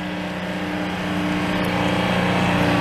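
Loud, steady roar of a Detroit Diesel engine in a vintage Sicard snowblower truck, droning continuously at close range and building slightly in level with no talk over it.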